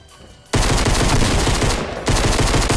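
Rapid automatic gunfire in Fortnite Battle Royale, a loud, dense burst that starts abruptly after a quiet moment, dips briefly, then resumes at full intensity.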